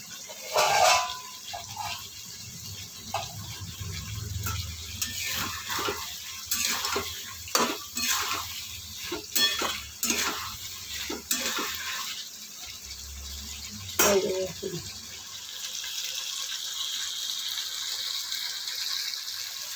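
Tomato pieces sauté in spiced oil in a pan while a spoon scrapes and stirs in irregular bursts, a close sizzle that rises and fades, with no one speaking.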